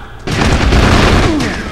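In the war video game Combat Elite, a loud burst of gunfire erupts suddenly and rolls on as a booming, sustained volley for over a second.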